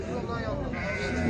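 Sheep bleat at a livestock market among sheep, goats and cattle, several animals calling close together in a dense, continuous crowd of bleats with people talking in the background.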